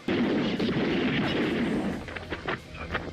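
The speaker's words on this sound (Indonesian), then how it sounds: "John muncul dan menembaki semua para penjahat" Loud, dense gunfire in a shootout from the action film The Bodyguard from Beijing, a rumbling barrage of shots that thins into scattered reports toward the end.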